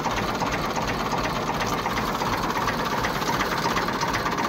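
A 2012 Massey Ferguson MF 240 tractor engine idles steadily at a rapid even clatter, close and continuous, with no talk over it.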